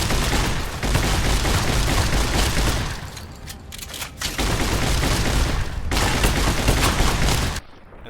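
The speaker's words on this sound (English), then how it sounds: "Now's my chance to get up into him and lay down the shotgun fire" Shotgun fire in the video game Fallout: New Vegas, a dense barrage of loud booming blasts close up, with brief lulls between volleys before the noise cuts off at the end.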